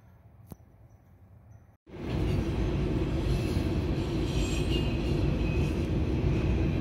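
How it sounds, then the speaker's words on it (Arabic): A train in Canada runs past: after a quiet stretch with a single click, the sound abruptly jumps to a loud, steady roar of rolling wheels and rail noise that continues without letup. "ويا القطار نمشي"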